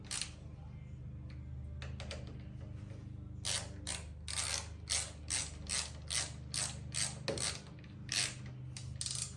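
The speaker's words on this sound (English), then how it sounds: "We're gonna switch over to the ratchet. Not enough torque to do it without putting my hand on it." A ratchet wrench tightens a bolt on a Craftsman lawn tractor, its pawl clicking in a steady run of repeated swings, close and fairly loud over a low background hum; no talking.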